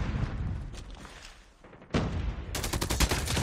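Bursts of automatic fire from an RPD machine gun echo in a ranked hardpoint match of a shooter video game, loud and close, with a brief lull before a rapid, sustained volley at the end.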